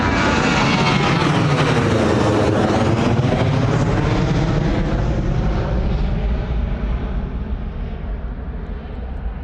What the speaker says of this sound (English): Beautiful sound there from the Jet 2 holiday livery heading out to Alicante, Boeing 737.